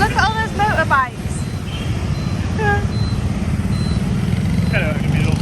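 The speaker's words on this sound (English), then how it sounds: "Look at all those motorbikes." Dense motorbike traffic fills a street in Hanoi's Old Quarter with a steady, close engine drone, scattered horn beeps cutting through, and voices talking over it.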